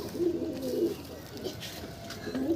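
Pigeons cooing inside a crowded loft, several soft throaty coos close by in a repeating rhythm with no talk.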